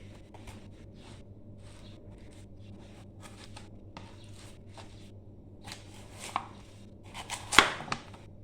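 Sweet potato being chopped on a board with a knife, a loose series of close, crisp cuts that build to a few louder knocks near the end, heard alone against a low background hum.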